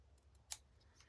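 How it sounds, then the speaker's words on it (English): Two quick, crisp snips of scissors cutting through paper, close and quiet, with a short pause between them. "I'm just going to use the scissors just to cut that through."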